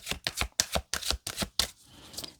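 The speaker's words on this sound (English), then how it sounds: "Just skip ahead with the shuffling if it bothers you" Tarot cards are shuffled by hand in quick, rhythmic bursts, about six crisp riffling strokes close to the microphone, then a softer rustle as the deck settles.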